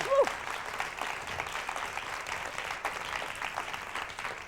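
Audience applause at a talk on surviving a personal attack, recorded on 1995 VHS: a faint, steady crowd clapping that runs throughout, with a brief voice near the start.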